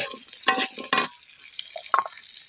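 Dried puti fish with chopped onion and garlic sizzling in a pan, stirred with a few scraping strokes, soft steady frying hiss between the louder spoon movements.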